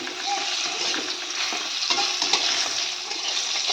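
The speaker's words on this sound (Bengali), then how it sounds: "এখানে পটল ভাজ বসিয়ে দিয়েছি পটল ভাজা" Sliced pointed gourd (potol) fries in oil in a pan, a steady close sizzle with light crackles and occasional stirring, no talk over it.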